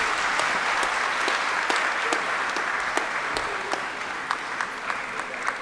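Audience at an annual New Year school and conference applauds after a speech, a dense, steady wash of clapping with a few sharper claps standing out, continuing throughout.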